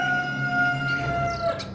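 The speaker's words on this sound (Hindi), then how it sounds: "चिंटू के घर में से मुर्गे की आवाज आ रही है।" A cartoon rooster crows once, a short strained call that stands out over a quiet background.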